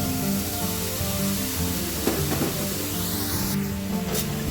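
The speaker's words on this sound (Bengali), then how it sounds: "কড়াই দিয়ে ভালো করে নেড়ে রাখতে হবে যাতে না নিচে বসে যায়।" Sweetened coconut mixture cooking over medium-low heat in a kadai as it is stirred, a continuous soft hiss and sizzle with a few scraping strokes, no speech.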